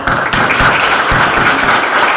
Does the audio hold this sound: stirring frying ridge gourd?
no